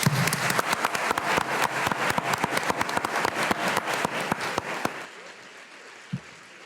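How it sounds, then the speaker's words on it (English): Audience applause for congressional special election candidates at a Rhode Island forum, a steady burst of clapping with distinct sharp claps standing out, ending abruptly around five seconds and leaving a quiet room. "Round of applause."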